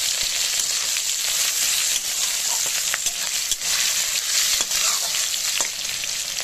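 Chopped tomato and slit green chili fry in hot oil in a pan, a dense continuous sizzle with occasional sharp ticks and light stirring scrapes, close and steady throughout with no talking.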